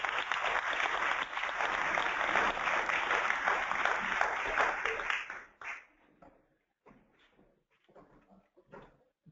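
Audience at an evening talk breaking into applause, dense clapping for about five seconds that then thins out into a few scattered claps.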